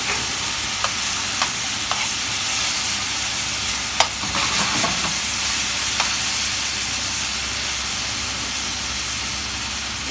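Garlic and asparagus sizzle steadily in olive oil and white wine while being stirred, a constant close hiss broken by a few sharp clicks of the utensil against the pan.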